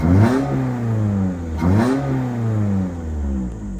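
A Scion's engine with a catless header and cold air intake revs twice in quick succession, each sweep climbing sharply and then settling back to a rough, throaty idle, loud and close with no talking.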